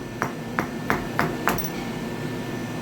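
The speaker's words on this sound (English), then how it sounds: "can't move until you give it a little tap with a hammer." Five light hammer taps on parts of a Cross RC Emo NT6 Unimog model kit in an even rhythm, sharp metallic clicks spaced about a third of a second apart, then quiet background hiss.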